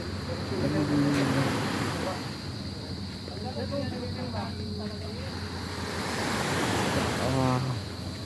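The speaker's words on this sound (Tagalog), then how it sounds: "Ito ang dagat namin, oh." Sea waves wash onto a beach shore in a steady broadband roar, swelling and easing, with wind across the microphone and faint voices in the background.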